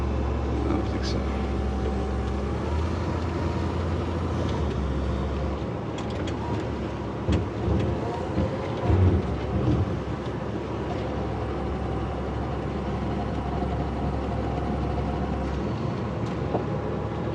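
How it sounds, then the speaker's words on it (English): A 1986 Airstream 345 motorhome rolls down the road with a steady low engine and road rumble from the cabin, while people talk over it the whole time. "Driving a 1986 Airstream motorhome."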